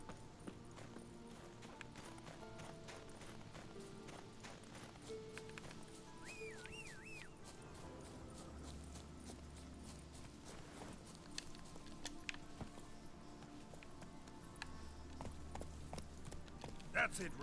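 Roach the horse walks in The Witcher 3 video game, with steady hoofbeats running under game music and someone talking over the play.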